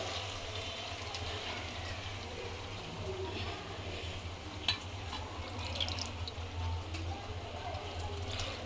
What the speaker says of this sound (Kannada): ಸ್ವಲ್ಪ ನೀರು ಹಾಕ್ಕೊಂಡು